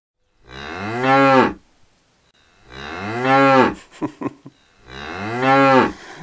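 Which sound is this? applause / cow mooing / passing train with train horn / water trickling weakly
cow mooing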